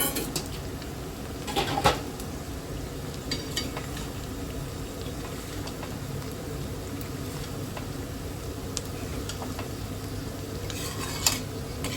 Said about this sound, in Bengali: এবারে সবজিগুলি দিয়ে দিলাম। এতে গাজর, ফুলকপি, কড়াইশুঁটি আর সয়াবিন।